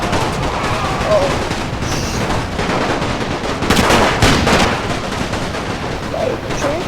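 Machine guns and massed gunfire crackle continuously in an alternate Great War battle scenario of Napoleon Total War, a dense, loud barrage with heavier bursts partway through while a player talks over it.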